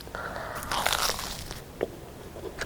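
A crunchy bite into shrimp-burger-style toast topped with mild onion, thin pickled radish and mayonnaise, giving a close, crisp crackling crunch with a few brittle snaps, then faint chewing.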